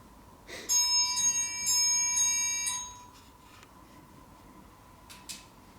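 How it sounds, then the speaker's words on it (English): A bell rings inside an old reputedly haunted house, a bright sustained metallic tone struck twice in quick succession that decays over about two seconds, followed by faint knocks and near silence. "Them bells are ringing."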